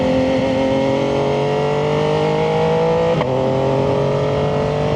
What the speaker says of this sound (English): once I put this exhaust on, it is so loud